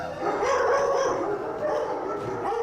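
Trained guard dogs at an animal quarantine facility bark and yip loudly and close by, in a rapid overlapping burst with some whimpering and no talk.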